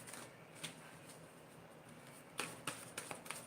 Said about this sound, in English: Sometimes it will take me a little bit of time to shuffle and connect.